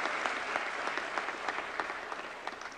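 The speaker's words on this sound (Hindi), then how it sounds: "एक बार जोरदार तालियां हमारी सांस्कृतिक विरासत के वाहक हमारे हस्तशिल्पकारों के लिए।" An audience at a national crafts awards ceremony breaks into steady applause for handicraft artisans, with sharper individual claps standing out over a continuous wash of clapping.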